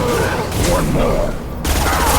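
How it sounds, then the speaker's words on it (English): A single high-impact shot fired in the video game Mass Effect 2, a loud, dense burst of gunfire layered over battle noise, filling the whole moment with booming blasts. "Firing a high-impact shot!"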